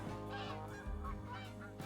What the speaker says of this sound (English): Whoa, geese! Snow geese.